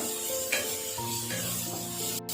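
Ginger garlic paste sautéing in a pan while being stirred for a crab pepper fry. A soft, close sizzle mixes with rubbing and scraping strokes throughout the short moment.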